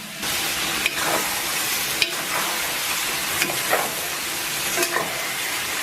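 Sauerkraut and seasonings sizzle steadily in a hot pot with a little oil, a continuous frying hiss broken by a few soft clinks and stirring scrapes, with no voices.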